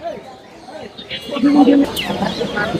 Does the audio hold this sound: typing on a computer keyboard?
no